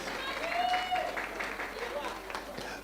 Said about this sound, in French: Un tonnerre d'applaudissements pour Papa Serge.